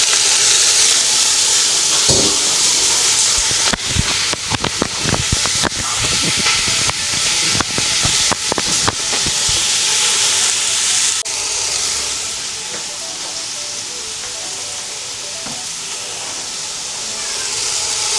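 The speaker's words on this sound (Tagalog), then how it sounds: "igisa lang natin yung ating chicken until mag-brownish na yung chicken" Chicken sautés in a pot for sopas with a steady, close hiss of sizzling, broken by scattered clatters of a utensil against the pot. The sizzle softens slightly toward the end.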